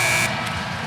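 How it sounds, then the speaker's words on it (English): A basketball arena buzzer sounding at the end of a period, a loud steady electronic tone that cuts off after a fraction of a second as crowd noise carries on. "At the buzzer right there"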